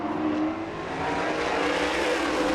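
Supermodified race cars scream around Shasta Speedway in a dense, continuous roar of high-revving engines, loud and sustained throughout with no clear gaps, broadband and slightly distant as the pack races past.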